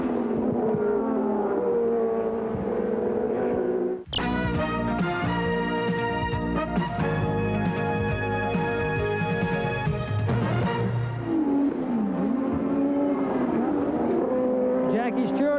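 Formula One cars racing at the 1987 Brazilian Grand Prix, a dense, steady engine roar with a sharp shift to high revving whine partway through, heard under a commentator's voice.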